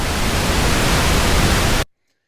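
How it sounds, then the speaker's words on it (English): A white noise track for building swells in music production hisses loud and dense as a broad, steady wash, then cuts off abruptly into silence. "Sounds horrible. That's called white noise."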